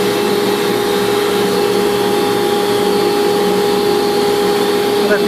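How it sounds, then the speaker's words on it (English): A banner heat welder runs with its vacuum table and heat welding nozzle engaged, giving a loud, steady, unbroken machine roar with a constant hum and hiss that holds at an even level throughout. "I'm going to bring my heat welding nozzle underneath there and hit run."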